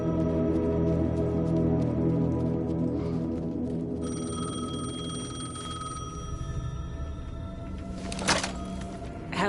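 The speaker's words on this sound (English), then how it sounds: "payphone was ringing. Somehow I knew the call was for me." A payphone rings in the video game Alan Wake 2, a steady electronic tone heard over a dense, dark ambient game score, with a brief knock near the end.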